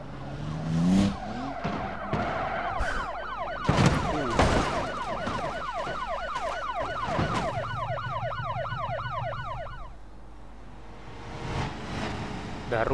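Several police car sirens in a video game wail together in steady up-and-down sweeps, loud and close, over engine and tire noise with sharp impacts, before cutting off and leaving rumbling traffic.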